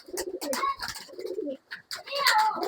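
A male Kulmi regdar pigeon and a female Dhuma regdar pigeon coo close by in repeated throaty bursts, with brief pauses between them.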